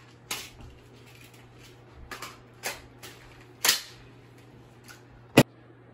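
Several sharp mechanical clicks and clacks of a weapon being reloaded in a video game, spaced irregularly over a low hum, ending in one loud crisp snap.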